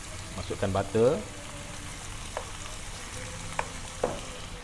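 Lamb pieces fry in a pan as butter is added, giving a steady close sizzle with a few sharp spatters and clinks, a voice speaking briefly over it near the start.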